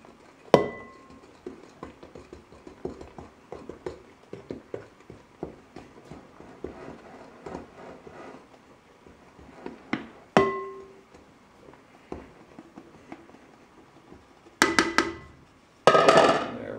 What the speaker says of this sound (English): now I'm going to stir in the dry ingredients